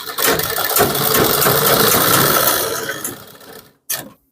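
A sewing machine stitches a kurti in a loud, close burst of whirring that slows and winds down over about three seconds, followed by one short mechanical clunk.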